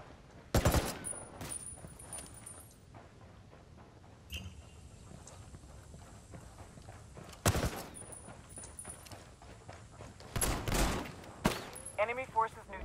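Bursts of gunfire in the tactical shooter game Ghost Recon Wildlands, with sharp volleys near the start, middle and end and quieter shots and combat noise between.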